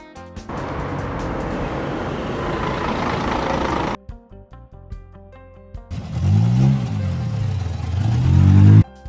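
Cartoon tow truck engine running loudly as a steady broadband roar, going quiet with a few clunks, then swelling into wavering revs that climb and dip before stopping abruptly.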